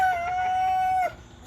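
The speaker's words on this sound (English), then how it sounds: "See there, little roosters?" A rooster at morning feed gives one drawn-out, steady, fairly loud call lasting about a second, then it stops and faint background noise remains.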